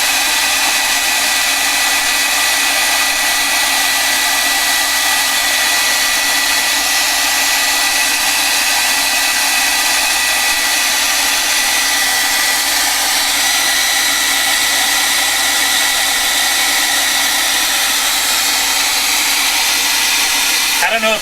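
A hair dryer runs steadily in a home art-journal setting, a loud, constant whooshing blower hum lasting the whole stretch with no breaks and no voices over it.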